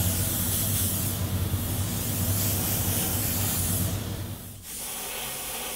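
An airbrush sprays white paint to layer flames in a continuous, loud, airy hiss that dips briefly near the end before resuming.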